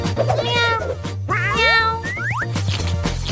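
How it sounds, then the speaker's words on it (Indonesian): Several cat meows in quick succession, loud and close, with rising and falling pitch, set against a steady low hum and background music. "Oke, Oscar si kucing."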